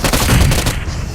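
Bursts of rapid gunfire from the mobile battle-royale game PUBG Mobile, several quick loud shots crowding the first part and then cutting off.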